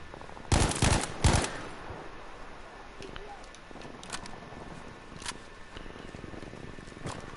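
M1A1 gunfire in Battlefield V: two short loud bursts early on, followed by scattered fainter shots and background battle noise.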